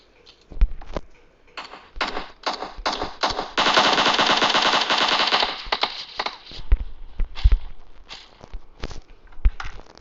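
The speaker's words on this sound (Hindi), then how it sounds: "दूर और गन शॉट आते थे," Gunfire in the mobile battle royale PUBG Mobile on the Livik map: scattered single shots and bursts, then a sustained rapid automatic burst mid-clip, with footsteps between shots.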